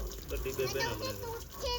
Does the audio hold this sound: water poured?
yes